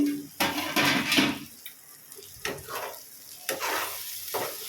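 Tamarind leaf and egg curry is stirred in a pan, with bursts of wet scraping and sizzling from the spoon separated by brief quieter pauses, close and fairly loud.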